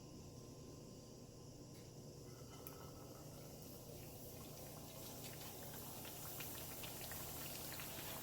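A beef and cheese empanada set into hot oil at about 340 to 350 degrees, with a soft, continuous bubbling fizz that slowly builds and stays faint throughout.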